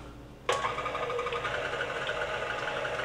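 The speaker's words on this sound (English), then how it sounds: "the regular double beaters work great for this. It's a perfect type of mixer to use for this." Electric hand mixer with regular double beaters switching on abruptly and whirring steadily through softened butter for a chocolate cake, a loud, close, continuous motor drone with a slight rhythmic rattle.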